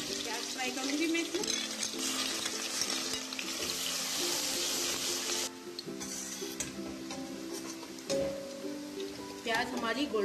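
Onions frying in a cup of oil in a pan, a steady close sizzle with occasional stirring scrapes while someone talks over it.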